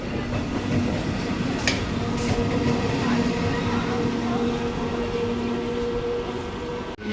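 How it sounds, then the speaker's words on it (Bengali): Steady rumble of a local train arriving at a station, with a low rail hum and faint clatter, continuous and fairly close, ending in a sharp thump. "ট্রেন ঢুকে গেছে ট্রেন"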